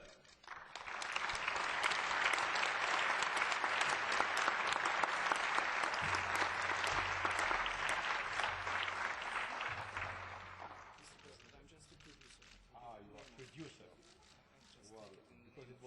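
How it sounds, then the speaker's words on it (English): An audience applauds an award winner at a European Parliament journalism prize ceremony, with dense, loud clapping that swells for several seconds and then fades out, followed by a voice speaking. "Great applause from yourself"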